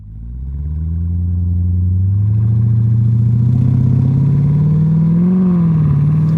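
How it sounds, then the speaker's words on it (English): A 2021 Dodge Durango SRT Hellcat with a loud supercharger whine rising over a deep, building engine rev, heard from inside the cabin with no talking. "You can already hear that supercharger whining."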